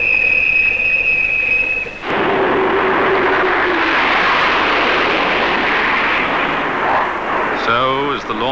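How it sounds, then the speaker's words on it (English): RAF flypast of sixteen English Electric Lightning jets saluting at Sir Winston Churchill's state funeral, a loud sustained roar that swells and holds for several seconds before fading. "there will be an RAF flypast of 16 Lightnings from Rottisham"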